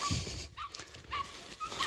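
Faint, high-pitched whimpers from a dog repeat a few times at short intervals over a low, muffled background.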